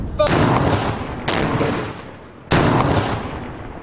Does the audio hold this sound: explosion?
yes